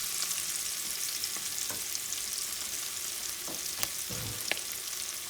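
Fresh cilantro and culantro sizzling in a pan for Puerto Rican sofrito, a steady close hiss of frying with occasional light stirring scrapes and clicks, no speech.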